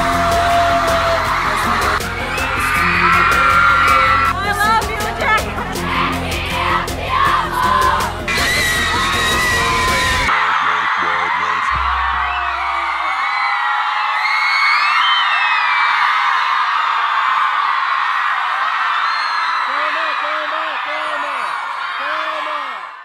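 Concert fans in South America scream and cheer loudly in a dense, sustained roar of high-pitched shrieks and yells, first over loud music, then carrying on alone.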